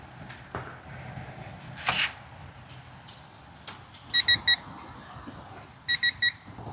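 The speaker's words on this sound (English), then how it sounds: "when it beeps, it means we're at 13 foot-pounds." A digital torque wrench sounds a short series of quick electronic beeps, then a second similar burst, over faint workshop background while tightening spark plugs on a 3rd-generation Honda CR-V set to 13 foot-pounds.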